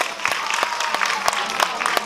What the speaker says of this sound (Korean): 자 박수 한번 불어보시겠습니다.